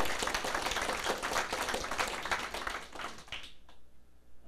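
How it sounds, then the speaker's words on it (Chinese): Applause from the audience at a closing address in Taiwan, a dense wash of clapping that carries steadily, then fades out over the final second. "大家爱甲大家鼓掌一下"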